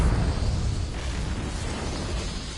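A Confringo fire spell blasts in the Hogwarts Legacy video game, a loud, broad explosive burst that rolls on as a rumbling roar for a couple of seconds.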